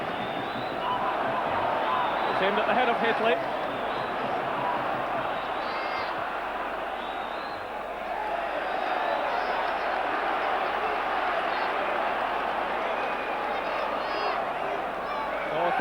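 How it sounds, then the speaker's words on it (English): A huge football stadium crowd roars steadily behind Rangers during a 1992 Champions League night match against Marseille, a dense continuous cheer under excited commentary talk throughout. "this huge crowd again getting right behind the Rangers team"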